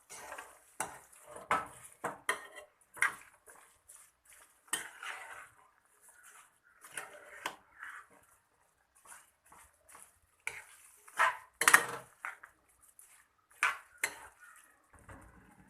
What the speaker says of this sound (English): Now I am going to mix it.